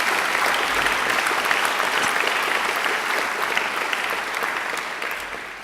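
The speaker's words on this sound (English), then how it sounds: "I think she deserves another great round of applause." Sustained, dense applause from a large audience at a graduation ceremony, steady and loud and slowly fading toward the end.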